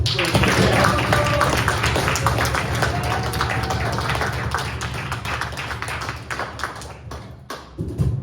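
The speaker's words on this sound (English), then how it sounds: "Another round of applause, Steve." Audience applause after a live performance and conversation event, a broad, dense wash of clapping filling the room steadily for several seconds before tapering off near the end.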